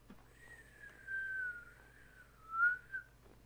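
A person whistles a single wavering melodic line, fairly soft and close, with a quiet low hum underneath.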